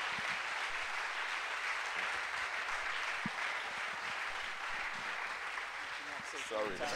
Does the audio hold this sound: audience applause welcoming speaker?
yes